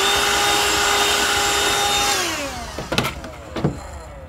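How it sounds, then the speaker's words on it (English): A rotary tool power-carving wood with sandpaper smoothing the carved surface; a steady high motor whine drops in pitch as it spins down, followed by a few close knocks and handling sounds. "The sandpaper just helps smooth everything out"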